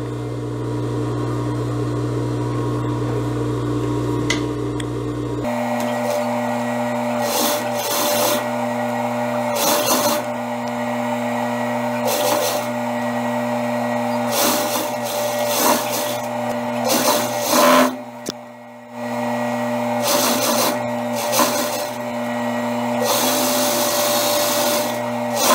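A sewing machine runs along sleeve seams of a gypsy-style blouse, a loud continuous hum and whir with rhythmic stitching pulses and brief pauses throughout.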